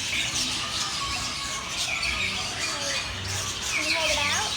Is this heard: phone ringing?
no